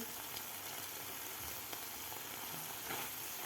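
Green chillies simmer in curd for dahi mirchi, a faint, even bubbling sizzle that runs steadily throughout, close but low in level with no talk.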